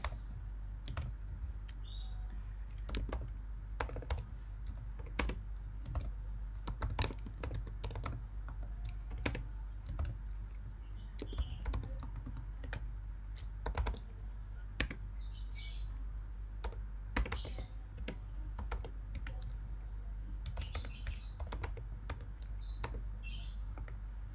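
Steady clicking of a computer keyboard as code is typed, close and crisp, with irregular bursts of keystrokes over a low room hum and faint bird chirps in the background.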